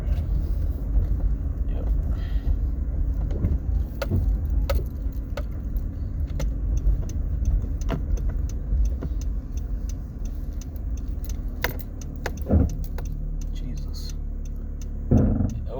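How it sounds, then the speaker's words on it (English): Steady road rumble of a new car heard from the cabin during a short drive, with occasional knocks and clicks; people speak briefly over the noise. "I'm recording a driving portion because I don't care, it's a short drive."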